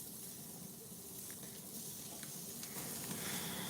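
Steak edges searing on a grill, held at an angle against the hot grate, give a steady, close, hissing sizzle that runs unbroken throughout with no talking.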